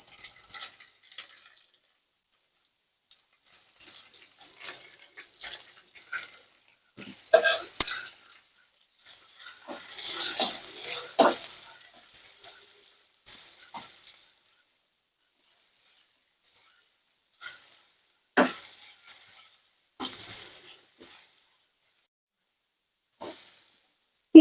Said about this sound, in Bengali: কড়াইতে তেল দিয়ে দিচ্ছি, তেল গরম হয়ে এসছে। এবার আমি পেঁয়াজটা দিয়ে দিচ্ছি।